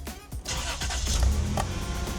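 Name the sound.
1992 Toyota 4Runner engine cranking and starting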